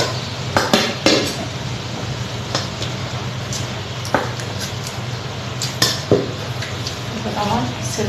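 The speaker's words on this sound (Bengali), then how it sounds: "এই যে আপনার ভাইয়াকে আমি খাবার পরিবেশন করে দিচ্ছি" Home-cooked beef curry, fried brinjal and egg bhuna from a rice cooker being served onto plates: scattered clinks and scrapes of a serving spoon over a steady low hum, close by, with faint talk in the background.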